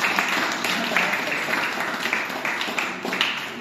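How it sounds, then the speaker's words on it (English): A crowd at a book launch applauds steadily, many hands clapping together in a dense, sustained round. "I think we should all just applaud you"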